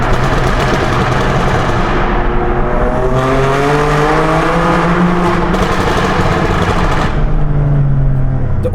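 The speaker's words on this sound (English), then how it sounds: "let's switch to Sports Plus mode and we'll make you guys listen to the exhaust note" BMW M2 Competition with S55 engine on a Stage 2 FBO tune in Sports Plus mode, running through a tunnel: a loud, sustained engine and exhaust roar with rising revving tones and crackling pops echoing close up.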